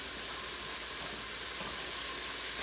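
Chicken and raw onion sizzle in an Instant Pot during a stir fry, a dense, constant hiss and crackle of frying with no pauses and no voices over it.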